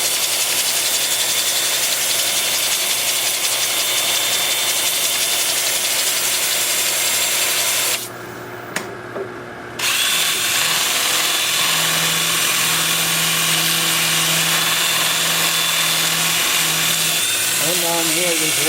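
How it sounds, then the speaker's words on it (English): A 2-inch sanding disc works a wood piece spinning in reverse on a lathe at about 320 RPM, a loud continuous whirring grind that drops out briefly midway and then resumes. "with the piece spinning in reverse at about 320 RPM, I'll be using my 2-inch sanding disc"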